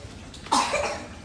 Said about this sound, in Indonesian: Papa juga batuk nih